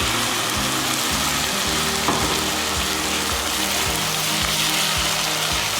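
Onions fry in a pan while being stirred, a continuous sizzle with rhythmic scraping strokes of the spoon repeating about every half second, close and alone without talk.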